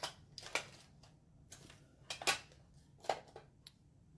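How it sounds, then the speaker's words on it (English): Scissors snip through edge pieces of cardstock for a handmade card, several short crisp cuts spaced irregularly and close by, with quiet pauses between them. "And I'm going to cut some of the edge pieces up."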